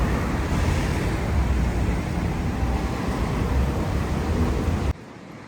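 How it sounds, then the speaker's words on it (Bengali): Strong wind blowing outdoors on a stormy day, a loud continuous roaring rush buffeting close by for several seconds before dropping off abruptly. "কি যে বাতাস"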